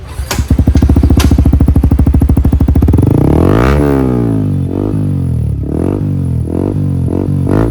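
Yamaha R15 V4 motorcycle with an aftermarket exhaust, loud and close, first a rapid idle burble, then a series of sharp revs rising and falling in quick succession.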